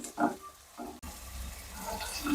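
Green chillies fry and sizzle in a pan for egg dum biryani, giving a soft, steady crackle with a few brief clatters near the start, heard up close with no talking.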